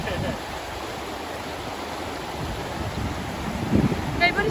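A river flows fast in a green camping area in Washington, giving a steady, broad rush of water close to the microphone with some wind buffeting. Voices can be heard faintly at times.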